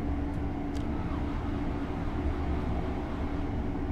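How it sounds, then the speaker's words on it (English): Simulated Azuma passenger train on the East Coast Main Line in Train Sim World 4, a steady broadband rumble and roar of the other train going past at close range for several seconds, no voices. "Do you like the sound as the other Azuma goes past?"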